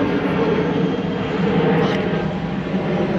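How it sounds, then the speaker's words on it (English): An airplane passes overhead above a van parked near a flight line, a steady, loud broadband engine roar that swells slightly and stays constant for a few seconds with no speech. "it's planes going over here"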